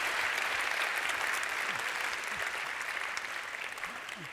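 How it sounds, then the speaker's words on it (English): A crowd applauds steadily, dense clapping at even volume that tapers slightly toward the end, with faint voices beneath. "Could you please give them a round of applause?"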